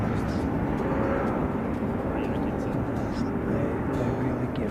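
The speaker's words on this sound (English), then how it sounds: "Noticeable that Jetstar's takeoff profile is considerably higher than New Zealand's." A Jetstar airliner takes off from Christchurch airport, its engines a steady, broad roar that holds at a moderate distance throughout, with faint background noise on top.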